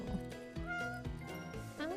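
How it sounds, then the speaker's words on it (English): A cat in the game Animal Shelter Simulator gives several short, close meows in quick succession. "I heard a meow."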